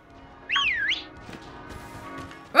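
Someone whistles a single rising-and-falling swoop during a Pokémon Sword game session, a clear mid-pitched whistle lasting about half a second against quiet game background.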